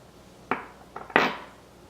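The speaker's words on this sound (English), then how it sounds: "I can use the pin to sort of push the punch out" A metal pin pushes a punch out of a gun trigger assembly while a sear, disconnector and trigger lever are being installed, giving two or three short, sharp metallic clicks and taps, close and isolated against a quiet background.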